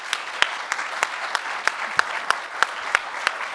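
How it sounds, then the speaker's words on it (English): Applause from an audience at a talk on cultures of belonging, with sharp individual claps standing out at a fairly regular beat over a softer, continuous bed of clapping. "Let's give Marilyn another round of applause."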